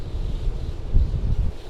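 Wind and waves on the Norwegian coast, a dense low rumble of gusts buffeting the microphone with surf washing underneath, continuous and fairly loud, no voices.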